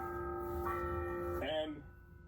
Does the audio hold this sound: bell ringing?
yes